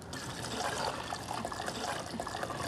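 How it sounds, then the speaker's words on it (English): Clam liquid pouring into a pot of potatoes for clam chowder, a continuous soft trickling splash of liquid, close and steady with no talk. "Now I'm gonna add some of that clam liquid."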